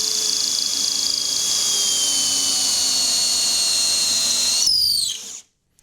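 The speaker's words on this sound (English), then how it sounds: "We're literally just drilling that top bit to produce the little cradle at the top" Power drill boring into wood to shape a crescent pen holder cradle, a steady high whine running continuously and close for about five seconds, then spinning down and stopping.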